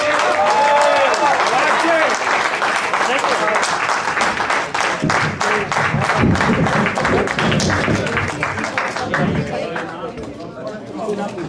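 Audience applause welcoming a poet at an Urdu poetry recital in Montreal, sustained dense clapping with chatter and calls from the crowd that gradually thins toward the end.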